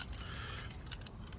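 A bunch of keys jangles briefly and brightly close at hand, in a garage setting beside a truck, with a few quick metallic shakes and no speech.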